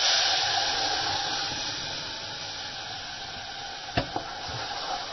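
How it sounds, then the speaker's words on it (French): Hot milk poured into a hot pan for a cheese soufflé gives a broad steady hiss and sizzle that slowly eases, broken near the end by two sharp knocks. "Nous pouvons maintenant verser le lait chaud"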